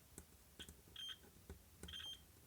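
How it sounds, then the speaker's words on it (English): A multimeter's continuity beeper on an anodized metal surface of a cheap LED power supply gives two short, thin tones, each sounding briefly as the probes scratch and tap against the coating, with faint clicks between. "Let's bring the meter in and do a simple continuity test."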